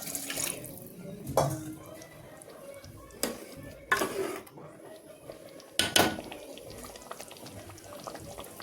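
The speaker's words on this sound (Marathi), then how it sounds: "आपल्याला आवडेल असे पाणी टाका" Water splashing and trickling close by into a pan of chicken, with several sharp clanks and knocks breaking in at irregular moments over a running flow.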